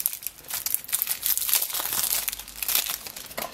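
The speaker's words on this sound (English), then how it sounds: "So we will go into the packs. Start off with the Kiora pack." The plastic wrapper of a Magic: The Gathering Duel Decks pack is crinkled and torn open up close. The crackling is continuous and dense and lasts several seconds, with no talk over it.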